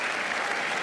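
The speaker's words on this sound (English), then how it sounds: "as he leaves the ground to raucous applause" Dense, continuous applause from a cricket crowd at a Test match at the Gabba, steady and broad throughout the brief moment.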